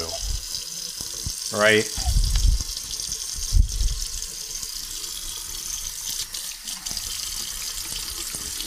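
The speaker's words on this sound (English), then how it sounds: "just scrubbing a lot of this oil crap off my hands again." Tap water runs steadily at a sink while someone scrubs oil and grime off their hands, with brief splashes and handling noises and a short spoken word near the end.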